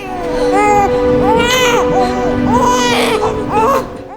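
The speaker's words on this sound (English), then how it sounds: "the sound of a baby's cry filled the room" A newborn baby girl cries loudly and close by in a room, a series of wavering wails and sobbing bursts with brief whimpering pauses between them.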